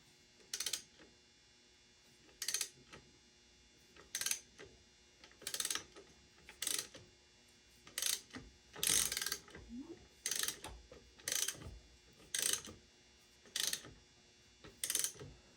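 A Suzuki DR250 motorcycle engine is turned over slowly by hand, giving about a dozen evenly spaced mechanical clicks and ratcheting bursts, close and alone against a quiet background.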